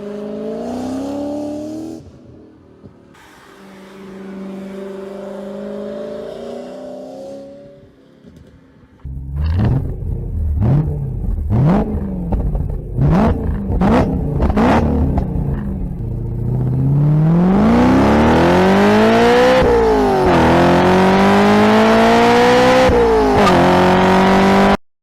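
An S65 V8-swapped E46 BMW M3 revs loud and close, then pulls away with rising gear-by-gear acceleration runs. Sharp rhythmic bursts in the middle could be the tires chirping.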